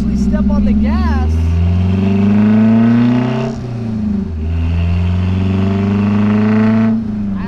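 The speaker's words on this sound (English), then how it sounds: "I actually feel the truck taking off and accelerating" A Nissan 720 mini truck with a swapped-in KA24DE engine accelerates hard. The loud engine note climbs steadily, drops briefly around the middle as if shifting, then pulls up again, close and continuous.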